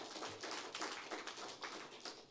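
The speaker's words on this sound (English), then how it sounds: "can you please join me in a round of applause to thank our panelists for participating today?" An audience at a workshop on sustainable cooling claps for its panelists, a dense, even round of applause that carries through without voices and sounds fairly faint and distant.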